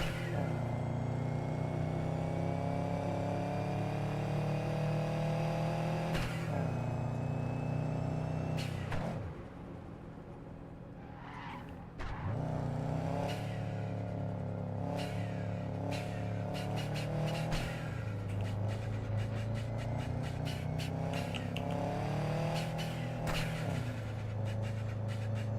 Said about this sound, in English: I'm having too much fun with this engine noise.